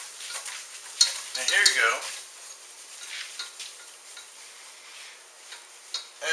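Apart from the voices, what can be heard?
roux cooking in a pan while stirred briskly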